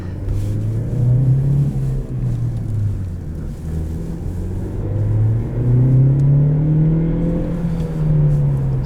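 A 2017 Chevrolet Cruze LS with a manual gearbox hums steadily under load, its engine pitch rising and falling through gentle revving as it accelerates, heard from inside the cabin.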